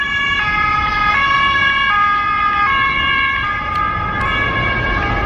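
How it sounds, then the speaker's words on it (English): A police car siren wails loudly in a city street, its two-tone pitch stepping up and down repeatedly and steadily throughout, with traffic rumble underneath and no talking. "Police cars."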